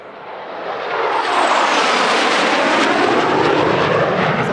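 Aircraft engine roaring past at the California International Airshow 2023, a broad loud rushing noise that swells quickly and holds steady as the plane passes close by, with no talk.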